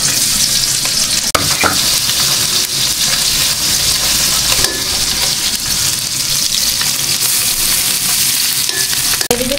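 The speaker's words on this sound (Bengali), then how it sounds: "এই যে মাছগুলো বাছা হয়ে গেছে, এখন এগুলোতে আমি ভাজবো" Fresh tengra fish fry in a pan with onion, making a loud, continuous close sizzle with occasional stirring scrapes throughout.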